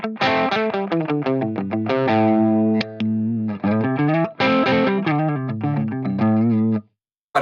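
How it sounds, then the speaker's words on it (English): An electric guitar runs through a Fractal AX8 set to mild overdrive, playing a busy riff with sustained chords that break up into grit when struck hard, close and loud with no talking, ending in silence. "as you can hear, when I hit the strings hard, it starts to break up"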